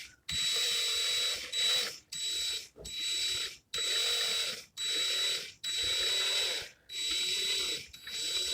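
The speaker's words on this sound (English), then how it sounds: "Put my drill in reverse." A handheld drill running in reverse to back-wrap coil wire, a whirring motor with a high whining tone starting and stopping in repeated bursts of about half a second to a second, close and fairly quiet, no talk.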